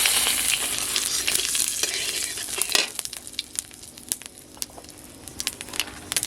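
Bay leaf and cumin seeds hit hot oil in a pan, setting off a loud, bright sizzle that settles into steady crackling frying with scattered pops and stirring scrapes, close and with no talking.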